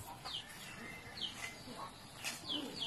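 A bird gives short, high chirps and clucking calls a few times, fairly close and moderately loud, over a steady background hiss.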